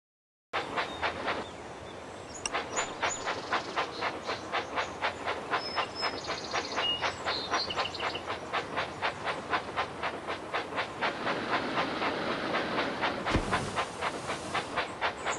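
Thomas & Friends toy train set running steadily, with a fast, regular clickety-clack of wheels and a constant mechanical hiss, close and alone without talk.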